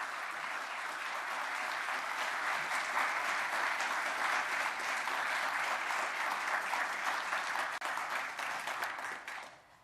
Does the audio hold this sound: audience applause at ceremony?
yes